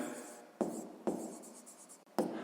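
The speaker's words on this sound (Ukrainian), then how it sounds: "Записуємо друга дія" A pen writes on paper while a 6th-grade math exercise is worked out, making soft scratching strokes that start in four separate bursts and fade between them. The strokes are close and quiet, with no speech.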